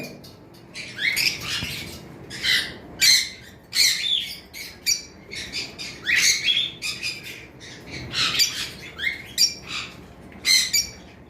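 Close-up bursts of harsh squawks and chirps from a pair of cockatiels, repeating in short irregular bouts.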